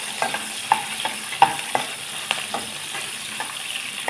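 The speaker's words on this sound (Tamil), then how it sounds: "நல்லா கொஞ்சம் நேரம் வதக்குங்க." Onion and ginger sautéing in a pan: a close, steady frying sizzle broken by repeated sharp spatula clicks and scrapes against the pan, with no voices.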